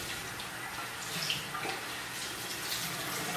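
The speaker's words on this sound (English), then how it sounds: "I'm running some water and getting my towel nice and hot" Tap water runs steadily into a sink to heat a towel, a soft, even hiss with faint splashes, moderately close and quiet, with no voices.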